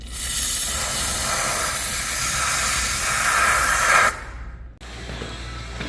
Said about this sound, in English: I'm gonna need more brake clean.